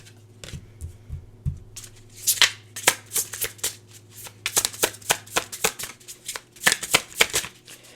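Tarot cards are shuffled close up in a quick series of crisp riffling flutters and taps, with a faint low hum in the first seconds.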